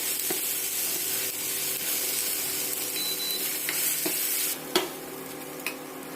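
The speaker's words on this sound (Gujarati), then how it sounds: "હવે આપણે ટમાટરને એકદમ સારી રીતે ચડવા દઈશું ત્યાં સુધી એકદમ ગળી જાય" Peeled tomatoes sizzle and bubble in a pan while being stirred, a steady close frying hiss broken by a few scraping clicks of the utensil, with no talking.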